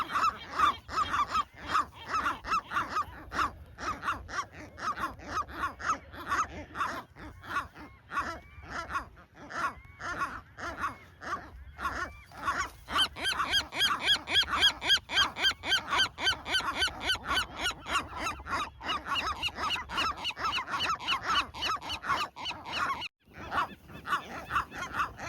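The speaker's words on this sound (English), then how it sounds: "Sometimes a third gull, apparently the partner of one of the combatants, would join the fight." Gulls squawking while fighting on the Channel Islands, with harsh, repeated honking calls in rapid bursts, loud and close, continuing without pause and turning more shrill partway through.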